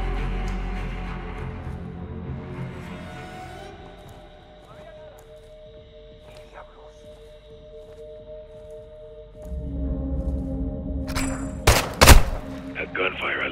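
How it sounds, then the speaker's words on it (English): A burst of gunfire from Call of Duty: Modern Warfare II erupts near the end, a few sharp loud cracks after a long quiet stretch of low ambient game atmosphere, set in a dark waterside mission. "That gunfire alerted them."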